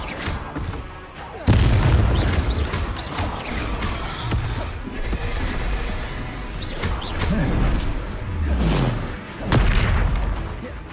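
Spell blasts from Incendio and Confringo in Hogwarts Legacy, a run of loud booming impacts and crashing bursts in quick succession, with battle noise filling the gaps between them.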